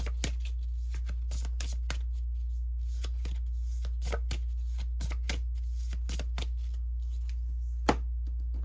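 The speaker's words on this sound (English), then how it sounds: "All right, there's one pile shuffled. And we'll do the same here." Close, crisp riffle-style card shuffling of a split deck: repeated sharp bursts of flicking cards in quick sets, with a steady low hum underneath and no talking.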